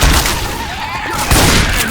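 Two loud, booming shotgun blasts in the Left 4 Dead Hard Rain campaign, one at the start and one about a second later, sharp and close over a dense game background.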